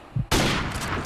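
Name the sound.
gunfire in a Call of Duty-style video game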